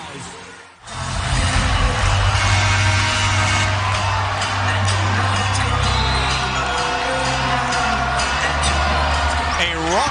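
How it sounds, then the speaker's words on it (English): A raucous crowd roars steadily at a Big Ten women's basketball tournament game, a dense, loud arena din of cheering and yelling that swells after a brief dip at the start and holds throughout. "A raucous crowd at the Big Ten tournament"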